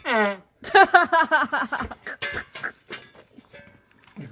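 A short, buzzing fart opens the clip, and a person then talks through the rest of it.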